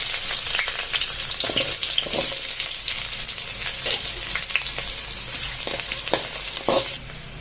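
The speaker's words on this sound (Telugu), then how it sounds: "కట్ చేసుకున్న ఆనియన్స్ని ఇప్పుడు వేసి ఫ్రై చేసుకుందాం" Chopped onions fry in a hot pan for gongura pachadi, giving a close, constant crackling sizzle broken by periodic scraping knocks as they are stirred.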